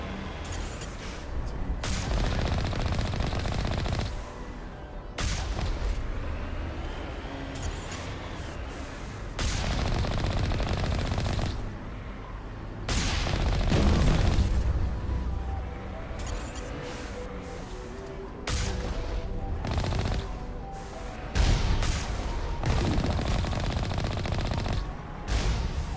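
Mass Effect combat gunfire rattles in dense automatic bursts broken by brief pauses, loud and close, with booming impacts mixed in.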